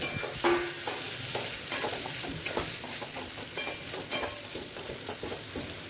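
Pointed gourd pieces frying in a pan, with a steady close sizzle broken by repeated scraping and clinking stir strokes from a utensil against the pan. No voices.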